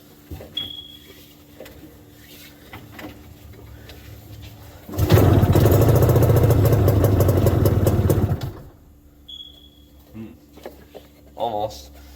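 A 1969 Subaru Sambar engine cranks and sputters for a few seconds in a loud rough burst before dying, with quieter clatter and a voice around it.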